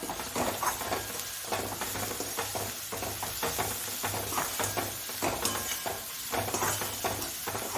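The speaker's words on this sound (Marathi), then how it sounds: "हळद टाकून घेऊ याच्यामध्ये आणि मीठ मिक्स करूया" Turmeric and salt stirred into a sizzling mixture in a hot pan, with a steady frying hiss and continuous scraping strokes of a spoon, close and busy throughout.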